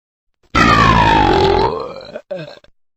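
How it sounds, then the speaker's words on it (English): A long, loud, drawn-out burp with a wavering, sliding pitch, followed by a brief second gurgling belch. "The word belch is another word for burping, or a sound of burp."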